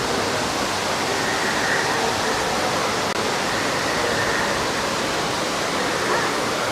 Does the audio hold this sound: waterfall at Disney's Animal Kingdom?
yes